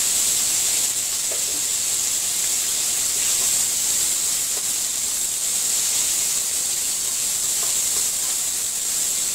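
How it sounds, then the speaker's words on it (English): Chopped or grated onions sautéing in a pan for a Tangra fish curry, a loud, continuous steady hiss and sizzle close up with no talking. "So you have to saute this onion till it changes its color."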